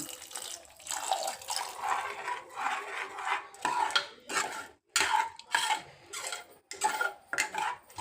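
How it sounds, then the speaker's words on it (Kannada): Water poured and stirred into a dhaba-style paneer gravy, a close, uneven run of splashing and scraping strokes in bursts with brief pauses. "ಈಗ ಇದಕ್ಕೆ ನಿಮ್ಮ ಕನ್ಸಿಸ್ಟೆನ್ಸಿ ನೋಡ್ಕೊಳ್ಳಿ ಕನ್ಸಿಸ್ಟೆನ್ಸಿ ನೋಡಿಕೊಂಡು ಇದಕ್ಕೆ ಸ್ವಲ್ಪ ನೀರು ಹಾಕೊಳ್ಳಿ"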